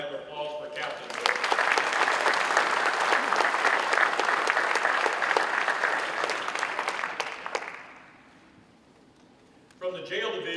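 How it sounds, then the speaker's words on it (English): An audience at a sheriff's office promotion and awards ceremony gives a round of applause, loud steady clapping for about seven seconds that fades into quiet before a voice resumes speaking. "May we have a round of applause for Captain Bill"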